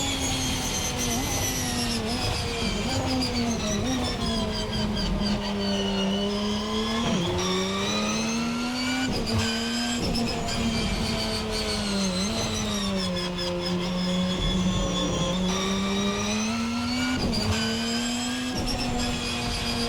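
The V12 engine of a VRC Beamer prototype race car in a racing game holds a loud, steady, high-revving drone alone for the whole stretch, dipping briefly at a few gear changes and backing off.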